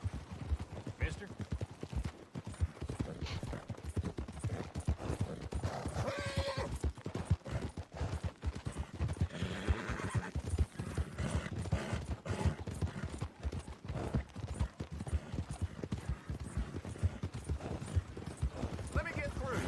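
A horse in the Red Dead Redemption 2 video game clip-clops with steady, rapid hoofbeats throughout, with occasional neighs and game sounds mixed in, while a person talks over it.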